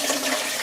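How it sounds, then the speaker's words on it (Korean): Water runs in a quick rushing stream while perilla seeds are rinsed, a short, fairly loud splash of under a second. "들깨를 씻어 보겠습니다."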